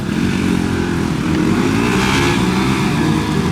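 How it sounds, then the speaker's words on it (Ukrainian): A Bajaj NS200 motorcycle engine drones steadily and loudly throughout, a continuous low rumble with no pauses or voices, at a motorcycle gymkhana competition. "Баджач НС 200 Дуже популярний мотоцикл"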